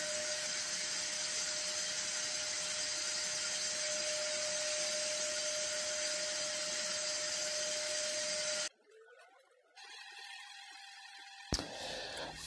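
A power sander grinds steadily against the wooden headstock of a baritone guitar built from pallet wood, a loud, even whine for about nine seconds that then cuts off into quieter, scattered workshop sounds.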